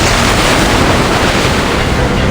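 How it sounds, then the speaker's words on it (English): Big, stormy ocean waves in the video game Reverse 1999 surge as a steady, loud roar of broadband surf and wind, unbroken for the whole stretch with no voices. "Watch out! The big waves!"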